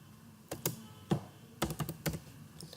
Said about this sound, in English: So now I am typing here